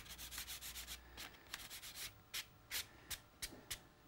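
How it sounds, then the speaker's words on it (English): A brush or sponge gently rubs paint across a watercolour painting of water, giving soft scratchy strokes that start in a quick rhythm and then slow into separate swipes, close and quiet, with no talk. "I'm just going to rub that quite gently across"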